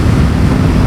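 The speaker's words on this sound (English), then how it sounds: "It's very windy today" Strong wind buffeting the microphone outdoors on a very windy day, a loud, constant low roar and rumble with no pauses and no talk.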